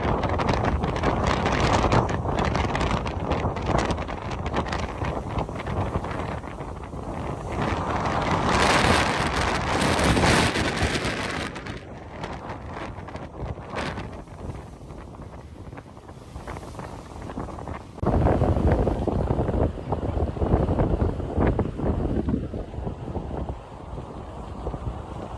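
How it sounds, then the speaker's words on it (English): Strong gusts buffet an open microphone beside Lake Ontario during a windstorm with gusts near 60 mph, with churning waves washing beneath a loud, continuous roar that surges and eases over about twenty-five seconds. "Significant churn on the lake here,"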